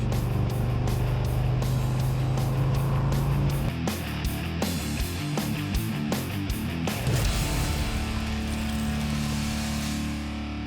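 A 1967 Ford F100 pickup truck engine drives continuously at close range, a steady loud drone with a low hum that shifts pitch partway through as it changes speed, joined by sharp periodic clicks and rattles.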